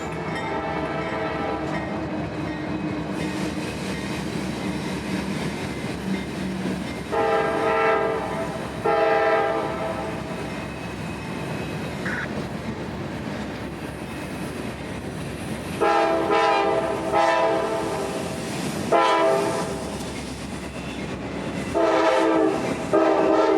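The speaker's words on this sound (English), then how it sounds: "a horn from the south would catch us by surprise" Freight train horn from EMD locomotives on the CSX S-Line, sounding in several long, loud blasts over the steady rumble of the passing train, rising and falling in repeated groups.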